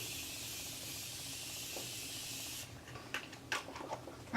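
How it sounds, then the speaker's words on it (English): A fine mist of Morphe setting spray hisses steadily for a couple of seconds, then stops, followed by a few soft clicks and handling rustles nearby. "I'm gonna spray some setting spray"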